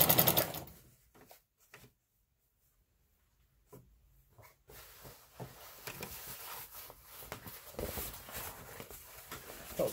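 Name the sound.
sewing machine stitching a curtain hem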